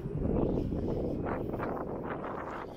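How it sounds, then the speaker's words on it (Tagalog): Strong, cold spring wind blows while walking outdoors in Korea, a continuous rushing roar with low microphone buffeting and no talk. "Ang lakas ang hangin tapos ang lamig."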